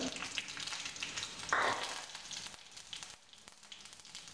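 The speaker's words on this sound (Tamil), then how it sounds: "இப்போ இந்த கடுகும் வரமிளகாயும் போட்டு தாளிச்சிக்கலாம்" Mustard seeds and dried red chillies hit hot oil for a mint rasam tempering, a soft, brief crackling sizzle with a short louder burst, fairly quiet overall.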